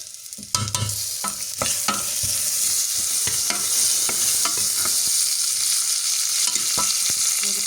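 Cashews fry in a pan for lemon rice, with a loud continuous sizzle and repeated clattering scrapes as they are stirred.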